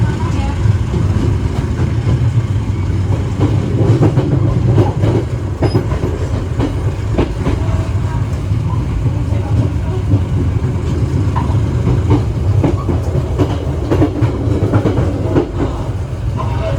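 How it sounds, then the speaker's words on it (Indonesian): A Pasundan passenger train pulls away from Kutoarjo station and runs on the rails, with steady loud rumble and rhythmic clickety-clack heard from inside, and a person talking over it. "Kereta api Pasundan akan segera berangkat kembali ya dari stasiun Kutoarjo"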